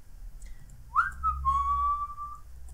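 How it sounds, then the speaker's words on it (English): A single person whistles into a microphone: one close, clear whistled note rises quickly and then holds steady for about a second and a half over faint background noise. "don't whistle into the mic"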